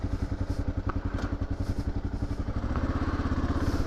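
Kawasaki KLR650 dual-sport motorcycle, a 2018 model with a 15-tooth sprocket, rumbling steadily at close range as it rides along, its engine thumping in a fast even pulse with a slight rise near the end and no talk.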